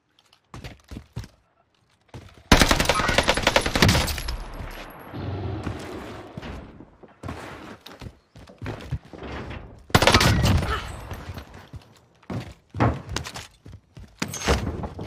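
STG-44 assault rifle fire in the video game Warzone, with bursts of rapid automatic shots that come in loud clusters, separated by quieter gaps and sharp individual thumps.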